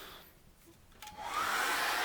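A hair dryer is used to dry acrylic paint on an outdoor fence-post painting. It starts with a low whir, then swells into a loud, steady rushing blow that holds close and continuous to the end, with no speech.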